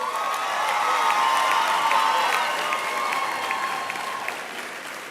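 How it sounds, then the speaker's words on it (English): A large audience at a university graduation ceremony breaks into sustained applause, dense and loud with scattered cheers and whoops, tapering slightly toward the end. "Let us give the Faculty of the Humanities and Professor Matabesi and all the graduates a round of applause"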